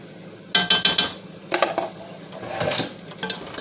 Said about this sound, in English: Now I just stir it and make sure all the seasonings are all throughout.